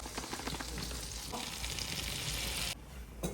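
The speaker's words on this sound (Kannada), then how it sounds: "ಸೊ ವೈಟ್ ಸಾಸ್ಗೆ ನಾನು ಫಸ್ಟ್ ಬಟರ್ ಹಾಕೋತಾ ಇದ್ದೀನಿ." Butter frying in a pan for a white sauce, a steady bright sizzle with light stirring that drops away sharply near the end before a brief return.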